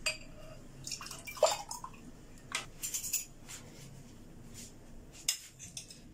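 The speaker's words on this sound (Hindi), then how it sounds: "दो ग्लासों में डाल दिया, ऊपर मैं ये जेली डाल रही हूं" Custard sharbat poured into two glasses, with soft liquid trickles and drips broken by a few light glass and spoon clinks close by, no talking.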